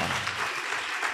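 A congregation claps steadily at a baptism ceremony, the dense, even applause filling the space in a sustained burst with no talk over it.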